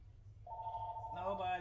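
A home telephone starts to ring, a short faint tone that swells into a brighter ring over a low background hum.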